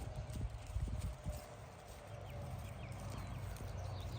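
A mare's hooves clop on hard ground in an uneven walking rhythm, fairly close, with faint background ambience and no talking.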